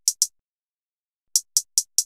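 Crisp closed hi-hat ticks from a trap beat, two quick hits, a pause, then five evenly spaced hits, dry and isolated.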